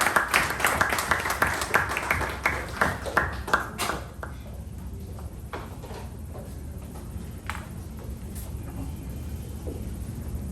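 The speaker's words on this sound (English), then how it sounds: "please help me welcome today's table topic master, Toastmaster Pavani, with a huge round of applause" Applause for a Toastmasters table topic master: a burst of clapping opening the clip and quickly thinning to a few scattered claps, then fading into quiet room noise.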